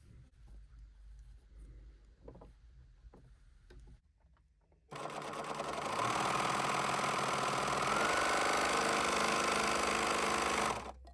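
A Husqvarna Viking 1001L serger test sewing, starting abruptly after quiet handling clicks and then running as a loud, steady, close high-speed whir for about six seconds before stopping.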